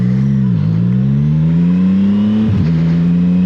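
A CFMoto 675SS sport motorcycle pulls away from a traffic light, its engine loud and close, rising steadily in pitch through the gears with a brief dip at each shift.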